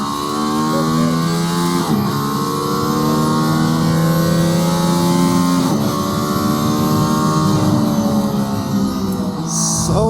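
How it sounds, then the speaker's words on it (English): An AMG ONE hypercar engine roars loudly accelerating out of a track corner, climbing through gears with sharp shifts, revving hard and continuous from start to finish. "So again, we accelerate out."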